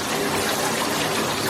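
Forceful gush of water from a 10.5 gpm Showerblaster shower head pouring into a bathtub, a loud, steady roar of filling water heard alone and close.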